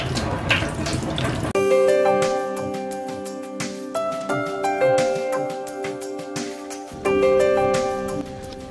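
Tap water running and splashing into a sink while a muddy potato is washed, a steady close stream with a ringing tonal hum, briefly changing pitch as the flow shifts.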